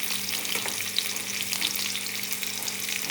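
Mustard paste hitting hot oil in a frying pan, a continuous close sizzle and crackle with faint stirring scrapes, no talk.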